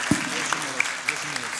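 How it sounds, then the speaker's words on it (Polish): Applause for award winners at the first Polish transplantology gala "Drugie Życie" in Wisła, 2015: a short burst of crowd clapping with a few sharp claps standing out and a voice heard over it. "Wielkie brawa!"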